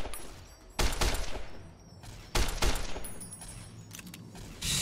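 Bursts of automatic weapon fire in Fallout: New Vegas come in two loud rapid volleys a second or so apart, with a third shorter burst at the end and quieter gaps between.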